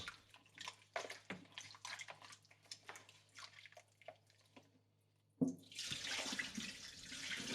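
Shiitake mushrooms washed in a kitchen: faint handling noises and drips at first, then a tap bursts on and water runs steadily under the mushrooms.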